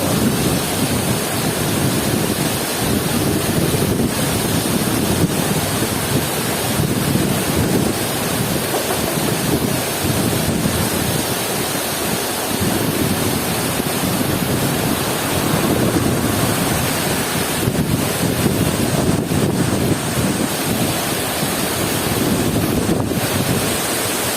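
A constant, dense roar of rushing water from the Kali Ngisor waterfall in Jepara, Indonesia, fills the whole stretch, loud and unbroken, with a low rumbling undertone and no talking.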